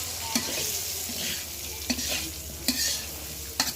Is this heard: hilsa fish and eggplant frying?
yes